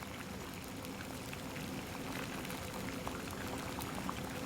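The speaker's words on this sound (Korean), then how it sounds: "물이 보글보글 끓고 있다." A pot of water bubbles at a rolling boil, ready for cooking seafood such as conch, abalone and octopus, a dense, steady close-up gurgle with no talking.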